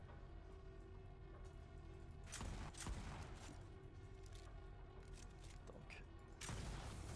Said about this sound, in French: Je pourrais peut-être utiliser mon shotgun.